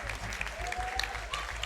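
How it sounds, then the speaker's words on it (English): A LAN crowd at an esports grand final bursts into brief applause with cheers, layered over a low rumbling hum from the venue and a few faint whistles. "Round of applause to both the teams"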